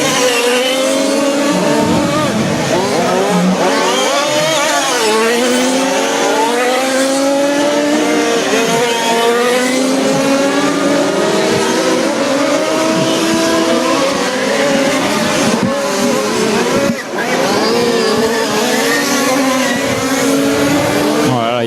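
Quarter-scale RC Formula 1 race cars scream around a track in a national championship final, high whining engines rising and falling as they pass in overlapping waves, with a commentator talking loudly over them.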